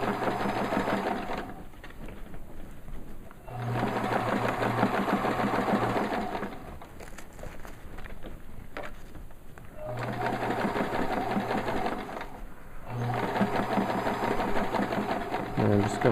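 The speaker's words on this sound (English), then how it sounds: "I'm just going to keep hemming right around the front side of the pocket, and I'm going to go right over the loop Velcro" A sewing machine hemming around the front of a fabric pocket and over loop Velcro, running in several loud sustained bursts of rapid stitching separated by brief pauses, close and steady.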